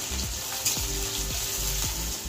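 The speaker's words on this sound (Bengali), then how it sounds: "পেঁয়াজটা ভাজা হয়ে গেছে" Onions fry in mustard oil in a karahi on a gas stove with a continuous close sizzle, and a spatula scrapes the pan several times at an even pace.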